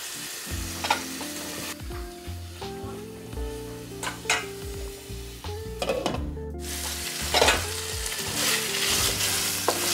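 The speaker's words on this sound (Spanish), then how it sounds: "soasar los hígados y los vamos a dejar que cocinen hasta que doren ligeramente, muy ligeramente." Chicken livers fry and sizzle steadily in a pan, a continuous crackling hiss broken by a few sharper stirring clinks and scrapes, close and fairly loud with no talking.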